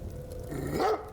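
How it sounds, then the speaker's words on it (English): A puppy in the video game Lens Island lets out a single short bark near the end, fairly close and clear over a quiet ambient game background. "I have a pet dog now."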